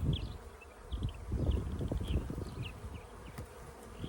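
Honeybees buzz around an open hive during a frame inspection, a close, steady hum with scattered higher buzzing passes from individual bees and light handling noises.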